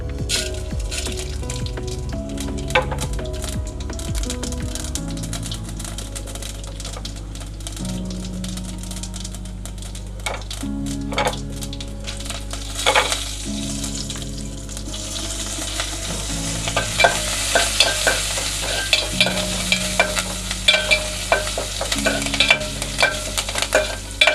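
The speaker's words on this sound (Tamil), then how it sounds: "கடுகு, உளுந்து, காஞ்ச மிளகா, ஜீரகம், கருவேப்பிலை எல்லாத்தையும் போட்டுக்கலாம்." Mustard seeds, urad dal, dried red chilies, cumin and curry leaves fry in a spoonful of sesame oil, a steady loud sizzle with crackling pops that grows busier toward the end, with no speech.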